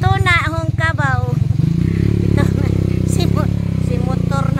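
Motorcycle ridden along a muddy farm-to-market road, a steady low engine drone running throughout, loud and close, with someone talking over it at the start.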